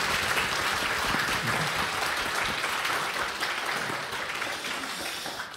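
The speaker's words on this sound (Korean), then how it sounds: "우리 박수로 한번 격려 한번 하실까요" A church congregation applauds together in sustained, dense clapping that fills the room steadily and fades slightly toward the end, with no talk over it.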